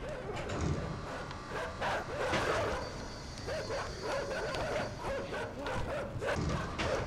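Hostile dogs in the dark puzzle-platformer game Inside bark, yip and whimper in a close, agitated chorus of repeated short calls over a busy background.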